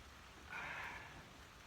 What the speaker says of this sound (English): You probably hear the raindrops on the roof.